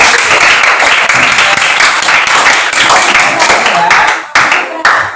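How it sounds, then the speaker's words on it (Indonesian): A classroom of students claps together, dense rapid clapping that stays loud before breaking off near the end into a few trailing claps. "tepuk tangan dulu buat kita orang yang"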